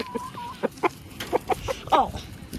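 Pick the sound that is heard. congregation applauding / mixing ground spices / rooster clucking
rooster clucking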